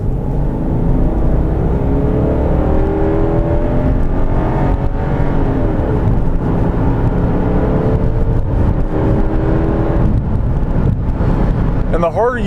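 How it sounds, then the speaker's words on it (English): A 2016 Subaru Outback 3.6R accelerating hard, its engine droning loud and steady as it steps through simulated gear shifts, with a rising-and-falling pitch pattern heard from inside the cabin amid road rumble. "let me demonstrate, because you can hear it shift through fake gears"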